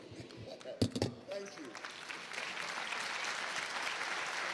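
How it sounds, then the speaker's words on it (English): Applause at a business forum starts after a few sharp sounds, then swells into broad, sustained clapping that keeps building to the end. "Let's keep clapping until he gets to his seat."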